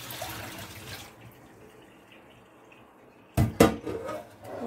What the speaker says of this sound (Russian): Все, эта вода нам не нужна, выливаем.